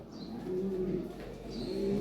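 A pair of Lahore siraji pigeons coo softly up close, two low rolling coos with a brief pause between, over a quiet background.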